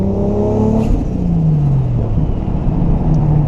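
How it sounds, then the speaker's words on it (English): A Toyota Supra MK4 with a turbo engine accelerating on a drive, a loud close rising whir and rumble with engine tones climbing in pitch, turbo spool sweeping upward over a steady roar. "That turbo sound is picking up on camera"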